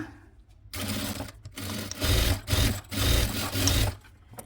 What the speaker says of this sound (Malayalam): അര ഇഞ്ചിൽ ഇത് തയ്ച്ചെടുക്കുക